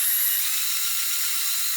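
An electric hand mixer beats cupcake frosting with a steady, close, high-pitched whir that holds even for the whole stretch.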